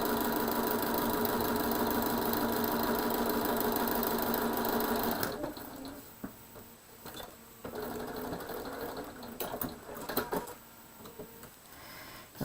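A sewing machine sews hexie quilt pieces along a quarter-inch seam line, running steadily and fairly loud for about five seconds, then coming back as quieter, shorter bursts mixed with handling noises.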